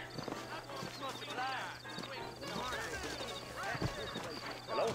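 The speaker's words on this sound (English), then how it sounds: "I got the horses saddled up and ready out front." Horses in the Red Dead Redemption video game, hooves clopping and a horse whinnying under ongoing talk.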